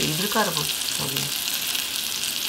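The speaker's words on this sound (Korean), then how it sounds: "노릇노릇하게 오래 튀겨야 되기 때문에 중약불에서 해야 돼" Flour-coated hairtail fish fries in a pan over medium-low heat, giving a steady close hiss and crackle throughout, with a brief spoken syllable near the start.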